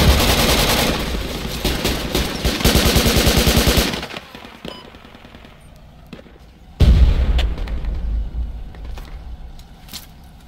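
Automatic gunfire from the tactical shooter video game Project Reality, a loud dense burst of rapid shots for about four seconds, then quieter scattered reports before another loud volley near the end.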